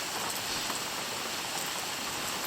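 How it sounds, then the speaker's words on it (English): Steady rain falls on and around an Adirondack lean-to at Big Shallow Pond, a dense, even hiss of drops that stays constant throughout with no voices. "Sitting in the lean-to in the rain."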